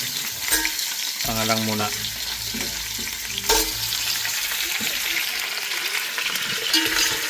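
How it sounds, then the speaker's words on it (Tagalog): Snapper fish heads for tinulang are stirred in a hot pan with a steady, close sizzle of frying, a utensil scraping and knocking the pan at intervals, and a few brief spoken words over the cooking. "Haluin nyo yan guys."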